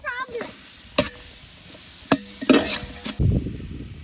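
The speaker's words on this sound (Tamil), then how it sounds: "வெட்டி வச்ச நாட்டு சின்ன வெங்காயம், தக்காளி போடுறோம்." Chopped native small shallots and tomato are tipped into a pan of frying pepper pork in a village-style setup, giving a few sharp clatters and scrapes, a brief sizzle and a final burst of frying noise.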